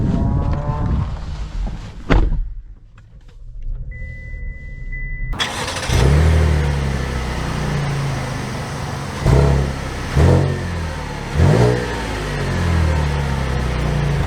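A 2023 Chevy Traverse High Country SUV engine is heard close up. After a brief quiet spell it cranks and catches, then settles into a steady running rumble with a few swelling revs.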